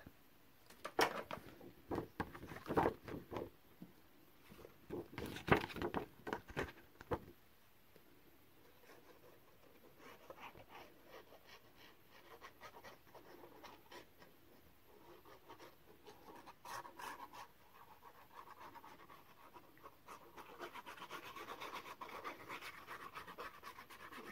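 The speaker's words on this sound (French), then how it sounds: "je vais d'abord enlever la pellicule de double face" Backing film being peeled off double-sided tape while assembling a paper-covered baby scrapbook album, giving close, quiet scratchy rasping and rubbing in irregular bursts, with no voices.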